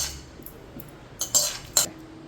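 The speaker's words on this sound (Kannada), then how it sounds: "ಬಿಸಿಯಾಗಿರೋದ್ರಿಂದ ಇದನ್ನು ಸಹ ಒಂದು ಪ್ಲೇಟಿಗೆ ತಕ್ಕೊಳ್ತಾ ಇದ್ದೀನಿ." Hot fried ingredients are scraped and tipped from a pan onto a plate, with a few sharp metallic clinks of a utensil against cookware rising above a quiet kitchen background, and no talk.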